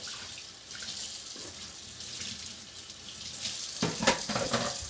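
Yams being rinsed under a running kitchen tap while candied yams are prepared: a steady, close hiss of flowing water with splashes as the yams shift under the stream.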